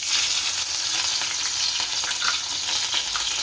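Green chilies hit hot oil in a pan and sizzle loudly and steadily, a bright continuous frying hiss with small crackles and no voices.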